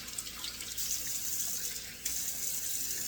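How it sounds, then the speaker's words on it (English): Cold water runs steadily from a bathroom tap into a sink, a close, continuous hissing splash with a brief interruption midway and no talking. "Running in the cold water here, so I get a couple of splashes of cold water."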